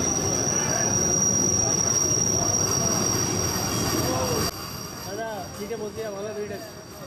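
A train entering Sitarampur Junction in West Bengal rumbles loudly at first under a high, steady wheel squeal, then grows quieter as it slows, and scattered squeals and a faint voice come through at the end.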